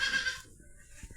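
A young Beetal goat kid bleats in one short, clear cry that fades into quiet farmyard background.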